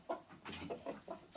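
Close clucking from a fighting rooster for sale, a prized breed of cock, comes in five or six short throaty bursts at an uneven pace, with no voices over it.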